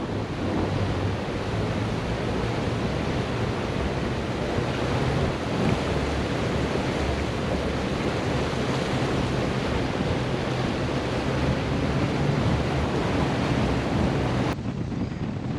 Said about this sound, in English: look at the power of that water